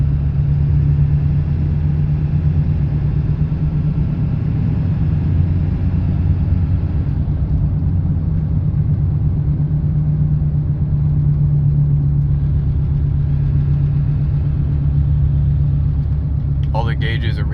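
A 1997 Ford F-250 pickup with a 7.3L Powerstroke diesel and 4-speed automatic pulls up an on-ramp, its loud, steady low engine drone and road rumble filling the cab without a break.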